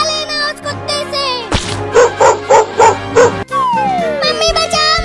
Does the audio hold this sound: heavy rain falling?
no